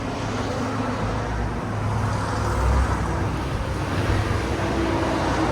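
Steady broadband road noise inside a 2023 Porsche Cayenne S with a 2.9L turbo V6 and straight pipes while driving, a continuous low rumble and tire roar at constant level with no talking.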